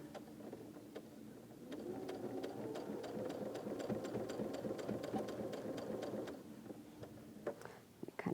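A sewing machine stitches through several quilt layers, giving a fast, even mechanical whirr with rhythmic ticking. It runs steadily for several seconds, then stops near the end.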